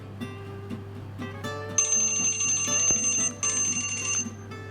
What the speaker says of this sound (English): When the timer goes off,